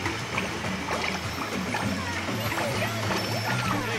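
Water splashes and streams steadily at an interactive fountain station on a water attraction at Epcot, a continuous wet spatter with crowd murmur in the background.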